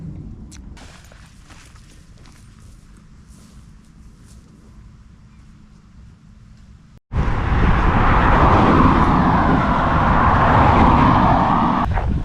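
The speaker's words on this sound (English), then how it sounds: "This road's a lot busier than the other one, and cars are passing me really close by." A car passes close by on a busy English country road near Linley Hill Farm. A quieter roadside stretch gives way to a sudden loud, sustained rush of vehicle noise that fills the rest of the clip.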